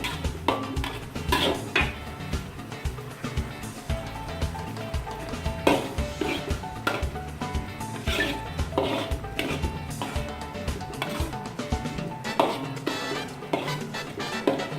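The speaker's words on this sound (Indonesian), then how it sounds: "Aduk-aduk sebentar" A utensil scrapes and clinks against a pan while noodles are stirred for Indonesian wet fried noodles (mie goreng basah), with repeated close metallic taps and scrapes in an irregular rhythm, with a faint sizzle underneath.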